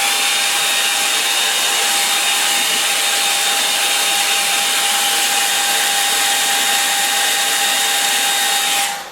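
A hair dryer blows onto a watercolour painting, giving a loud, steady, unbroken whine up close that runs nearly nine seconds before cutting off.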